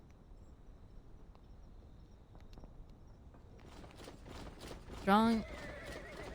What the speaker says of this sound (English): thunder of horses stamping the ground